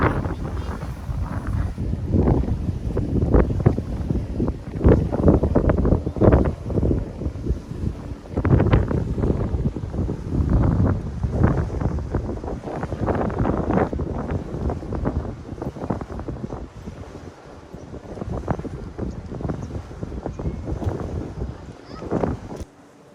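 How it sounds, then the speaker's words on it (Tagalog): Steady wind blows across the microphone with gusty low rumbles, and a person talks intermittently over it. "Masarap na hangin."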